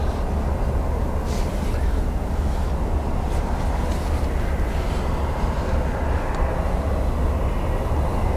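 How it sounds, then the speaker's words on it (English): A Cessna Citation jet taking off at Dublin Airport, a loud sustained roar of engines with deep rumble and broadband rushing noise, steady and powerful throughout. "I need to be fast with the citation now because it's going to be a rocket"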